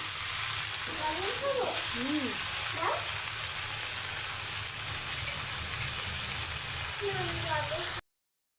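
Carrots fry in a pan with a constant hissing sizzle, while people talk intermittently over the cooking noise.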